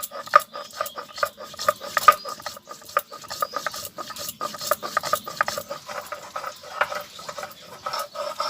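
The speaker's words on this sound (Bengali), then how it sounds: "এই গোটা গরম মশলা এই বেটে নেব।" Whole garam masala spices ground by hand on a grinding stone for a Bengali steamed egg dish, a close, steady rasping scrape repeating in quick back-and-forth strokes, with no voices.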